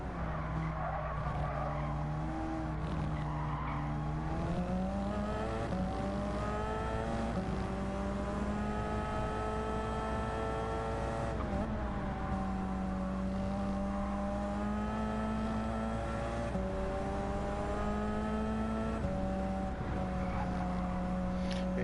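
Porsche race car in Gran Turismo 7, engine droning and rising in pitch through gear changes, with repeated tire squeal through corners, continuous and fairly close with no talking.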